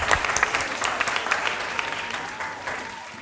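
Audience applause at a school quiz and spelling competition, a steady wash of clapping from a crowd that gradually thins and fades out.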